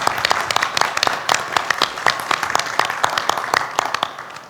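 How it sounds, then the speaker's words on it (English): An audience at a civic Newsmaker Day event applauds with steady, scattered clapping, individual claps standing out through a moderate, even round of applause. "let's give another round of applause for Mr."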